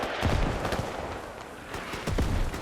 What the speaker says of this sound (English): High explosive mortars.